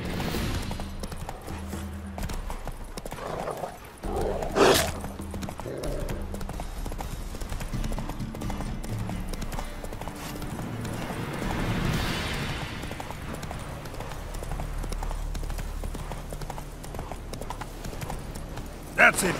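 Roach the horse clip-clops steadily under a busy game soundscape in The Witcher 3, the hoofbeats blending with background noise, a brief louder burst near the middle and voices talking over it.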